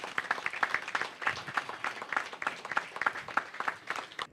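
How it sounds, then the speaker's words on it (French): Audience at a Congolese community meeting in Senegal applauding steadily, dense hand claps in an even wash with faint cheering, moderately near and without speech. "de nous lever et de vous acclamer pour manifester notre fierté"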